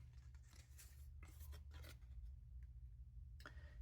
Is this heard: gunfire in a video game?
no